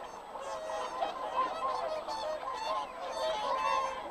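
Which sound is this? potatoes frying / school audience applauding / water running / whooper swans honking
whooper swans honking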